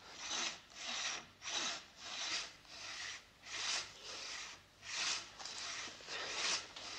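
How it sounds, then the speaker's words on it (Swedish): A handsaw cutting through a tree trunk in a forest, with long rasping strokes in a steady rhythm of about ten pulls, close and loud with no talking. "är det mitt träd de tänker såga ner?"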